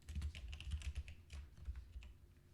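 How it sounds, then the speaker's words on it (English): Rapid, steady keystrokes on a computer keyboard while writing Java code, close and quiet, a continuous clatter of individual key presses with no talk. "I'm going to type out this print statement."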